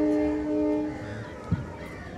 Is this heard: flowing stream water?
no